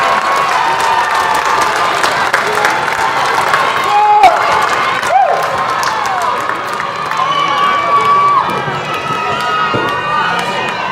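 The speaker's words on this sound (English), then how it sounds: "let's please give your loved ones a big round of applause" Graduation crowd at a high school ceremony applauds graduates' loved ones, sustained clapping mixed with cheers and shouts filling a large space, steady and loud for the whole stretch.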